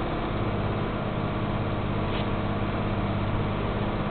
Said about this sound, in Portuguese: Acelerando o cargueiro.